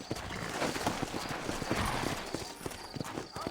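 Steady clip-clop of horse hooves trotting on hard ground in Red Dead Redemption, continuous and fairly close, with a faint ambient backdrop.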